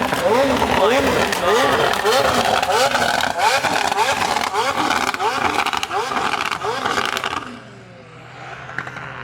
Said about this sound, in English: that McLaren sounds crazy